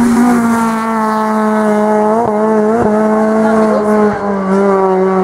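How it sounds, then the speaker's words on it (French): A BMW M3 race car on a hill climb, its engine droning loud and close with a steady high tone and brief gear-change dips, under a race commentator's talk. "Autre BMW 36, BMW M3 pour Michael Aiguillon"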